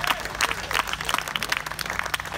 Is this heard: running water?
no